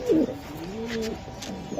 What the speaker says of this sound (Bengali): দুইটা কবুতর দেখছেন